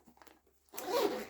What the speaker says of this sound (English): And then you've got your zipper here.